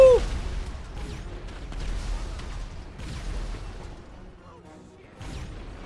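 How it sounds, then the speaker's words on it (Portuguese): Gunfire in the video game GTA 5 during an alien invasion of Los Santos with army tanks nearby: several heavy bursts and booms ring out at intervals over a busy game soundscape. "Quem tá atirando em mim?"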